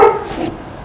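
A dog barks outdoors near a backyard pellet grill, one loud, close bark at the start followed by a softer trailing yip, with no talking.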